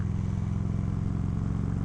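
A 1996 Harley-Davidson Road King motorcycle engine runs close by with a steady, low, throbbing pulse that stays even throughout.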